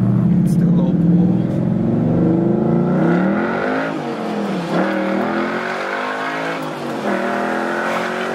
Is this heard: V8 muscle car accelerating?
yes